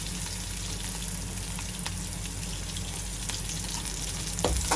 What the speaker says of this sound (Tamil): பச்சை மிளகாய் நல்லா தாளிப்பேன் அதோட வந்து கருவேப்பிலையும் போடுவோம்